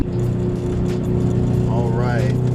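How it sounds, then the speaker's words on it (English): A Toyota 86 sports car's exhaust, heard from outside the car, holds a steady low droning idle throughout, close and loud, while a voice briefly speaks over it. "this is what the car sounds like from the outside"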